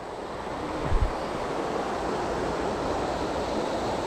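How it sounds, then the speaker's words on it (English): Rapids on the Roanoke River in Roanoke, Virginia, heard from a greenway trail as a steady, broad rushing of water with some wind noise and one brief thump near the start. "There's some of the rapids right there. This is the Roanoke River."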